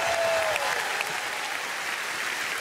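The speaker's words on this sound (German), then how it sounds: "Nochmal einen großen Applaus für Lukas" Audience in a German TV comedy studio applauding a performer, a sustained, even burst of clapping filling the room, with a brief whistle-like tone near the start.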